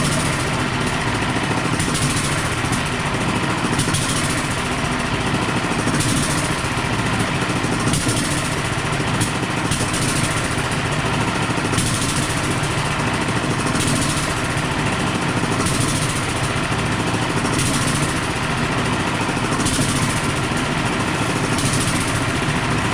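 A 1930s engine runs steadily at full throttle while powering a generator, giving a continuous, close, droning roar with a faint repeating pulse throughout.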